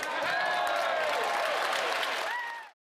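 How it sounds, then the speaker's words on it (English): Members of parliament in the House cheer and applaud, a dense, loud wash of clapping and voices that holds steady, then cuts off abruptly near the end. "here you can see all of the members of parliament standing up, cheering"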